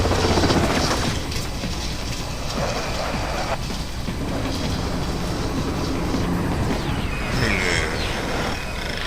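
Helicopter in the video game Metal Gear Rising: Revengeance, a steady loud rotor and engine roar that fills the whole clip with a constant rumbling, rattling drone, no voices heard.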